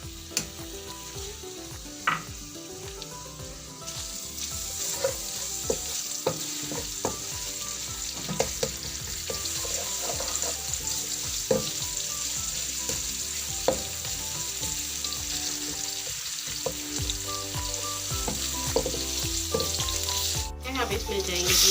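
Onion and garlic fry in a pan for fish curry, a steady close sizzle with scattered pops and the scrape of stirring, continuous throughout without talk.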